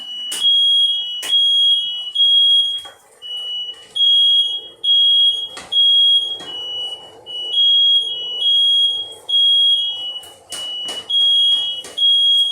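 Loud, high-pitched smoke alarm beeps repeating in bursts, with clattering and faint rustling between them.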